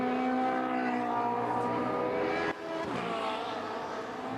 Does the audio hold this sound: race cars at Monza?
yes